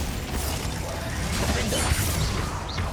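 In the Hogwarts Legacy video game on PS5, the Crucio curse is cast amid dense, continuous magical rumbling and whooshing effects, with a brief rising tonal sweep near the end.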